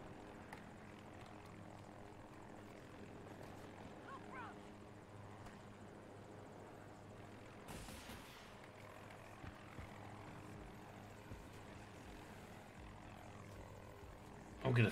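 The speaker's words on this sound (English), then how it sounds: "I'm now in the chopper with you boys." A helicopter flies in Battlefield 2042, its steady rotor and engine drone filling the whole stretch at moderate loudness from inside the cabin, with a short swell near the middle.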